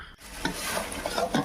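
Chicken being sautéed in masala on a village-style clay stove, close stirring scrapes over a hot sizzle, with a few distinct strokes in quick succession.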